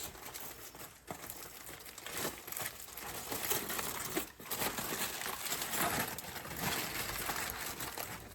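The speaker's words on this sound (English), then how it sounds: "Alright, time to unwrap the ribs." Aluminum foil wrapping crinkles and crackles continuously as cooked baby back ribs from a pellet grill are unwrapped, a close, busy rustle with a few sharper crunches throughout.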